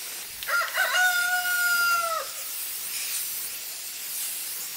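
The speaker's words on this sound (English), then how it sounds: "I'm using a can of spray paint, Rust-Oleum, and this is a gloss, and I'm using Hunter Green" A can of Rust-Oleum gloss Hunter Green spray paint hisses steadily as it coats a garden trellis. A brief tonal squeal from the nozzle comes early, and the spray stays fairly quiet and close.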